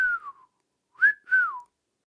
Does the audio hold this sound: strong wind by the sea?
no